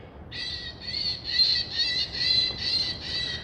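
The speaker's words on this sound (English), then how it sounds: "It's made to go off. I guess they have it there to try to scare birds away so they don't come inside here." An electronic bird deterrent device at an outdoor resort in Sevierville, Tennessee emits a series of bright, pulsing squawk-like tones, about six repeated bursts against quiet background hiss.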